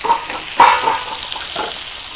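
Fish, a large bighead carp, fries in oil with a loud close sizzle that swells in several short bursts as it is stirred, alone without talk.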